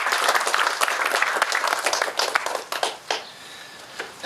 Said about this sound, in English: So everyone give John a round of applause.